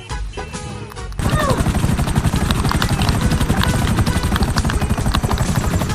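A toy helicopter in a miniature comedy skit flies loud and close after a quieter opening second, its steady rapid rotor chop continuing to the end.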